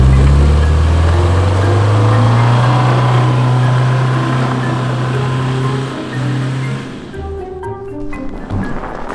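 A 2019 Ford Raptor or Subaru Outback engine drones loudly under throttle with wheel spin in snow during a blizzard, holding a steady low hum before dropping off, with scattered clatter at the end.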